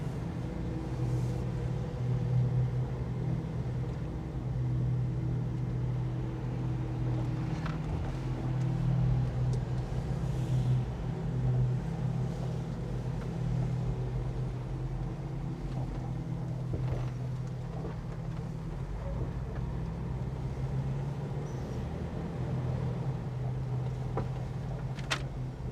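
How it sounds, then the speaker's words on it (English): A car drives along with a steady low engine and road rumble heard from inside the cabin, constant and moderately loud with no talk. "Let's go for a little drive."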